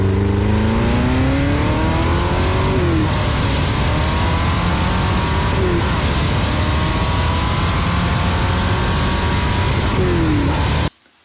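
A Ford GT40 MK1 race car engine revs loud and near, climbing through repeated gear pulls with brief shifts between them, then cuts off abruptly at the end.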